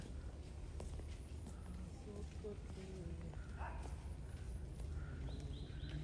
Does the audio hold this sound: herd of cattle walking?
yes